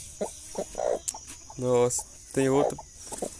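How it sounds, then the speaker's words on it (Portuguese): Hen clucking near her two chicks, with short close clucks and two longer drawn-out calls, while a person speaks briefly in between. "tem uma galinha aqui que já tirou pinto"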